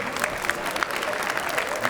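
A television studio audience applauds loudly and continuously, a thick wall of close clapping with faint crowd noise and a voice underneath.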